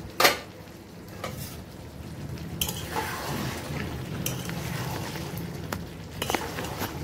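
Chicken kosha with chopped tomato cooks in a pan, a soft steady sizzle broken by occasional scraping stirs and light clinks of the spoon, close and fairly quiet.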